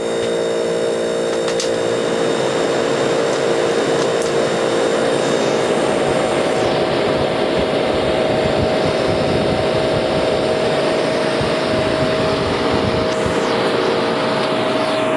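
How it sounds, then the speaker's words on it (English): A loud, constant mechanical drone with a steady hum and whooshing airflow from an Emerson Quiet Kool air conditioner compressor running hard, unbroken for the whole stretch. "the compressor instantly started getting louder"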